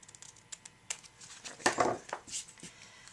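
Trimming excess paper off a card piece for a handmade scene card: a few faint, quick snips and light paper rustles close by.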